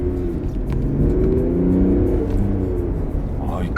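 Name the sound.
Mercedes-Benz S350d diesel car accelerating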